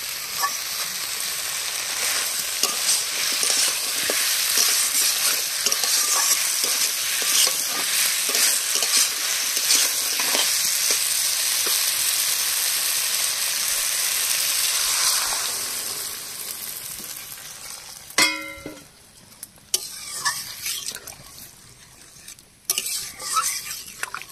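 Malabar spinach and potato stir-fried in a pan, with a steady loud sizzle and repeated scraping stirs for about fifteen seconds, then quieter clinks of a utensil against the pan and intermittent softer sizzling.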